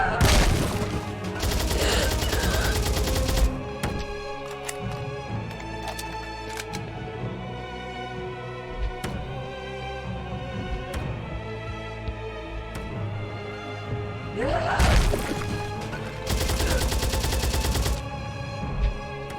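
Heavy gunfire in the horror game Fobia: St. Dinfna Hotel, dense bursts of rapid shots at the start and end with scattered single shots and clattering impacts in between, loud and close, no voices.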